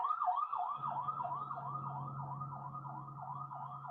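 An ambulance siren wails in a film scene, a steady repeating up-and-down sweep that runs loud and continuous throughout over a low engine rumble.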